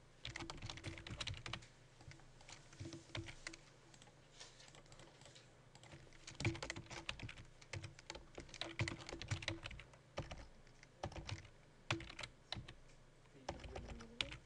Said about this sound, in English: you're going to want to type this stuff in to each one